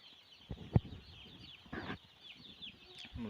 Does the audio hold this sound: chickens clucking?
yes